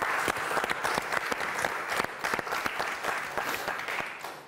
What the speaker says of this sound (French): On applaudit Bruno.